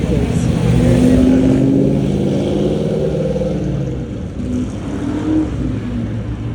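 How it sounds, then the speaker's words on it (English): Cars driving past at a Caffeine & Carburetors car show, engines rumbling and revving as they roll by nearby, a continuous low drone with a rising rev near the start. "This seems like a good place for some cars going by."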